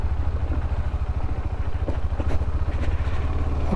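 A nearly new 2022 motorcycle, 750-class, idles close by with a steady, throbbing low-pitched engine pulse and light mechanical clatter, running continuously without acceleration, outdoors near an off-road area.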